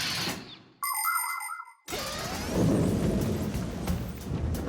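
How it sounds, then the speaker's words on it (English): Thunder rumbles from a storm in a children's cartoon, a low, broad crash that swells after a brief ringing tone and carries on loudly to the end. "This thunderstorm is really scary."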